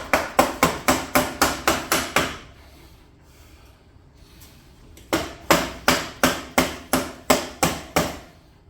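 Rapid, regular hammer blows on a 1968 BSA Thunderbolt 650 motorcycle ring out in two bursts of about a dozen strikes each, separated by a few seconds of quiet.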